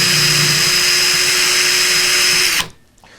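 A power case trimmer trims and deburrs a 300 BlackOut brass case, giving a loud, steady, close motor whine with a faint metallic rasp that stops abruptly near the end, leaving quiet.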